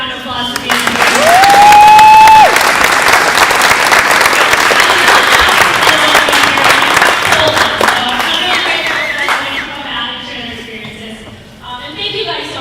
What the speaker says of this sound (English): Can we give these guys one more round of applause for being here?